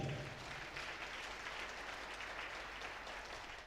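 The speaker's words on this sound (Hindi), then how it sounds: "इसके लिए हम जोर से प्रभु को धन्यवाद देते हुए ताली बजाएं।" A church congregation at a worship service in Sacred Heart Cathedral claps together in praise, a steady, dense wash of applause that holds evenly throughout without any speech.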